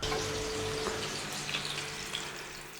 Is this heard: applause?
no